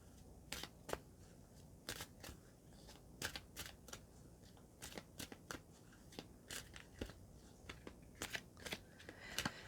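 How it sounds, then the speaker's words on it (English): Oracle cards from a Fairy Realms deck being shuffled and drawn by hand, a quiet run of crisp, rapid riffling clicks and slaps that repeats unevenly with no talk over it. "I'm just going to get a Fairy Realms card for you."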